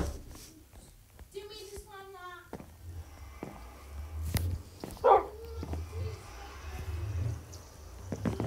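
A dog in the Minecraft video game gives a brief high whine early on, then a quieter yelp later, against soft background game noise.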